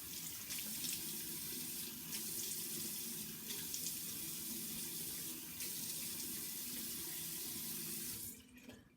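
A steady, continuous stream of water running from a tap into a sink, close and fairly loud, stopping abruptly near the end.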